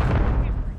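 A grenade blast in Call of Duty multiplayer, a single dense low boom filling the short moment loud and close, with no talk over it.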